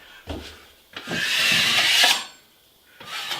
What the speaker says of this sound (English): I go over it with one like that. And I just listen to how it sings